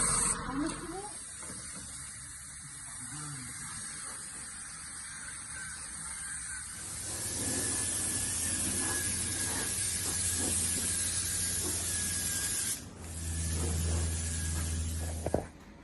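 A spray gun paints body sections where the guards bolt on, on a fire-damaged VK Group A SS Holden Commodore under rebuild: a steady broad hiss of spraying runs nearly throughout, with a brief pause and low rumble near the end.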